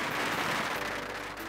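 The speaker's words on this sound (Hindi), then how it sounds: "कोई कर रहा है आतिशबाजी तो कोई ले रहा है आतिशबाजी का मजा।" Fireworks at the Yanshui Beehive Fireworks Festival in Taiwan, held on the last day of the Lunar New Year, fizz and crackle in a dense, continuous wash of bursts, fairly distant and moderately loud.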